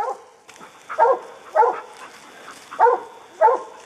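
Several hunting dogs bay and bark at a treed bobcat in short bursts, five clear volleys at a steady pace, fairly close, with quiet pauses between.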